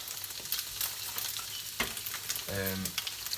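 An egg and a sausage patty frying on a hob, a close crackling sizzle broken by a few scraping knocks as the food is pressed, plus a brief metallic squeak near the end, with no talk.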